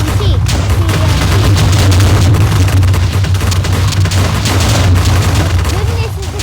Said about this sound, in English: Goodness, it's exploding everywhere.